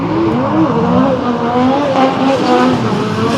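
Drift cars slide at D1NZ Pukekohe with engines revving hard and tires squealing in long, wavering wails, loud and sustained throughout.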